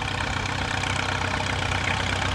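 An antique G6 tractor, followed by a 5-star tractor, chugs steadily at a tractor and steam engine show, a continuous low engine rumble with no talk over it.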